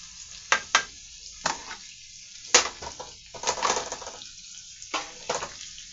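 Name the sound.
butter sizzling as it is moved around the pan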